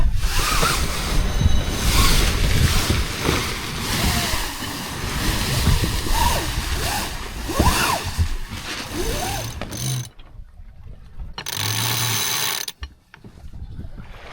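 A sailboat under sail on a very gentle Arctic Ocean sea, making 4.1 knots in 7 knots of wind: steady rushing water and light wind with scattered creaks and clicks, then a short near-quiet gap before the wash returns.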